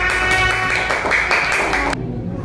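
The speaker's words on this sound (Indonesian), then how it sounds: "Tepuk tangan untuk kelompok 3." A classroom group claps together for a team of students, a brisk burst of applause that cuts off abruptly near the end.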